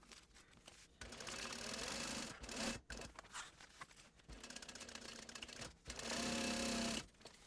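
A sewing machine stitches a backpack seam, catching reinforcing corner triangles. It runs in three steady, whirring bursts of a few seconds each, separated by short pauses.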